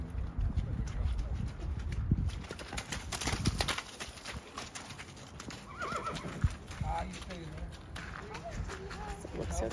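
Mustang horses being sorted and loaded onto a trailer, with repeated hoof clatter and scuffling, loud whinnies and neighs, and occasional metallic bangs, amid ongoing commotion and people talking in the background.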